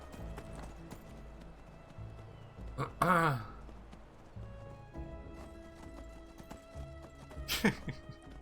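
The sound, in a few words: horse hooves and neighing in video game Enderal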